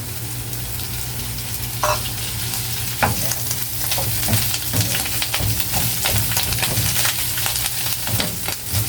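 Mushrooms frying and being stirred in a pan with egg, a loud continuous sizzle under repeated scraping and clacking of a utensil against the pan, steady throughout.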